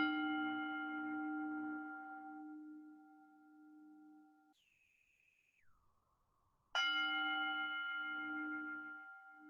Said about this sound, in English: we begin with the sound of the bell